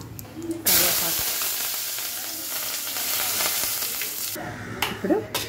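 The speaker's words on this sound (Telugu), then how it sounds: "ఇప్పుడు కరివేపాకు వేసుకుందాం." Curry leaves hit hot oil in a tempering for millet pongal. A sudden, loud burst of crackling sizzle and hiss holds for several seconds and then cuts off, followed by a few nearby clatters.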